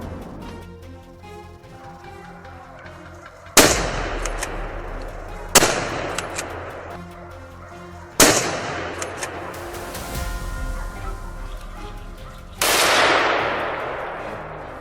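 Hunting rifles fire at wild boars on grassland, giving four sharp, loud gunshots spaced a few seconds apart, each followed by a long echoing decay.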